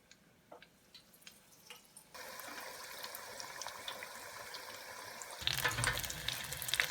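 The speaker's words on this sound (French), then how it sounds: "Donc là, les beignets sont en train de frire." Sweet potato and shrimp fritters dropped into oil: quiet drips and clicks give way to a sudden steady frying hiss, which swells into a louder, fuller bubbling near the end.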